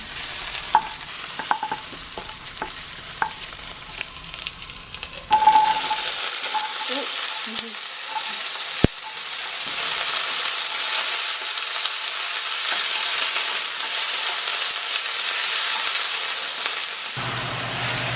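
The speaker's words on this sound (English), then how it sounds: "Starting off with some carrots in my Our Place pan. And we use sesame oil as the base to get some more flavor in." Carrots sautéing in sesame oil in an Our Place pan: quiet taps and clinks at first, then a sudden loud hiss as they hit the hot oil, settling into a steady, dense sizzle with stirring.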